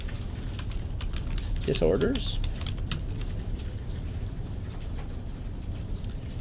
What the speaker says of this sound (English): I just start typing, and it will wrap the word if it needs to